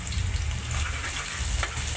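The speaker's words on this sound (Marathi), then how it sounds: "तर लसूण टाकूया" Garlic sizzling in hot oil in a kadhai alongside whole spices, cloves and bay leaf, a continuous close frying hiss with low bubbling underneath, no voices.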